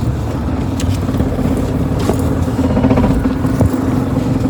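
A car reversing in reverse gear gives a steady, close, low engine rumble and road noise that runs unbroken for the whole stretch, with no voices.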